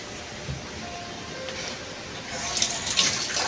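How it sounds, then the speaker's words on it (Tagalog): Water running from a bathroom tap while someone gets ready to brush their teeth, a steady splashing stream that grows louder and brighter toward the end. "Tapos po, kukuha po tayo ng tubig."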